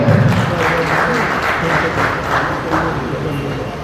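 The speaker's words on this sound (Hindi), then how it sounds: "इन सभी कमेटी सदस्यों को धन्यवाद और तालियों के साथ स्वागत किया जाए।" An audience claps to welcome committee members at a broiler breeders association AGM in Karnal: sustained, dense applause with a low hum of voices underneath, fairly loud and steady throughout.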